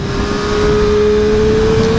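Close, loud engine note of a Triumph Street Triple 765 motorcycle held at a steady high rev, a single sustained tone with constant intensity for about two seconds.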